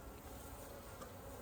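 Honey bees swarm around an open hive during a fall inspection, a dense, continuous buzzing drone that fills the air, close and steady, with no talk.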